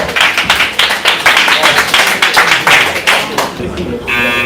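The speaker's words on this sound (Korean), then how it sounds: "박수 한번 주세요" An audience at an amateur boxing match claps after a round ends, with rhythmic applause under an excited commentator's voice.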